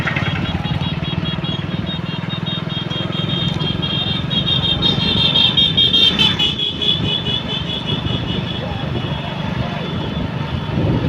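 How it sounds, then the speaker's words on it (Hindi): A vehicle approaches on a rural road in India, heard as a loud, continuous engine and road roar that swells slightly near the middle, with wind noise throughout. "आगे गाड़ी आ रही है"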